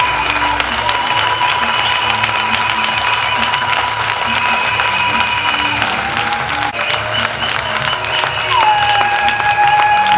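A church congregation claps steadily and loudly throughout, a dense continuous applause with faint voices and a tone sustained under the crowd.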